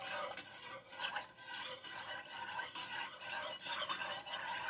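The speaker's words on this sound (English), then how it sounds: "stir it real good until that sugar dissolves." A utensil stirs sugar in a heating pot for a German Black Forest cake, scraping around the pot bottom in quick, repeated strokes, close and fairly quiet, with no talking.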